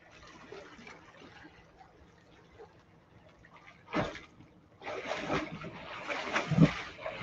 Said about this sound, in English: a big thump as though I'm dropping a weight into the pool